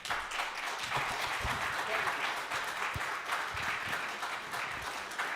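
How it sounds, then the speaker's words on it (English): A church audience gives a warm round of applause for a jazz performer at a Tuesday night jazz concert, with dense steady clapping from a crowd that continues evenly throughout. "And would you please give a warm round of applause for Avram?"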